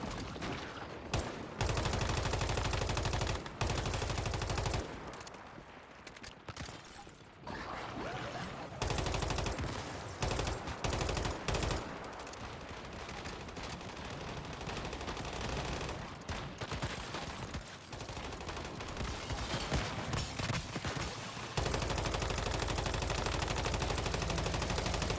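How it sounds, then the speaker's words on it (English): Sustained automatic gunfire in the survival shooter Once Human, dense overlapping bursts and rapid shots running almost continuously, loud and close with only brief lulls. "Just firing bullets in a general direction."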